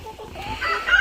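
Hens, young birds nearly ready to start laying, cluck and murmur close by in a short, busy burst with no talk over them.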